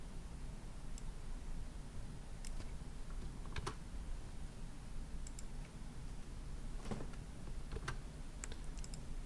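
Typing on a computer keyboard, a quiet run of irregular clicks and taps with occasional sharper keystrokes over a soft background hiss, close by and without talk.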